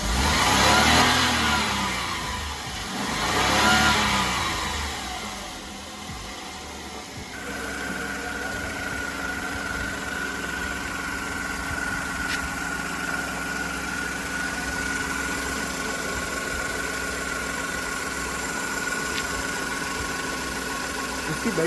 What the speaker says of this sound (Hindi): मैं आपको गाड़ी स्टार्ट करके दिखाता हूँ।